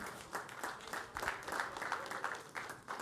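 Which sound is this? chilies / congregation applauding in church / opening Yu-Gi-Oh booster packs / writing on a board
congregation applauding in church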